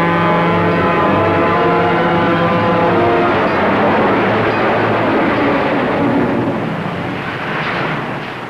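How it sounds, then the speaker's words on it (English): A 1940s train rolls past in a loud, sustained roar with a tonal hum, holding steady before easing off slightly at the end, with no voices over it. "Oh, look, that's your mother's train."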